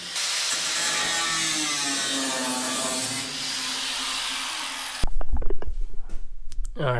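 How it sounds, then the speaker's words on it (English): A power tool cutting out a rusted-through floor panel of a Ford shoebox car, running as a loud, continuous high hiss and whine that abruptly stops, leaving irregular clunks and rattles. "I'm gonna cut that piece of floor out because it's kind of Swiss cheese"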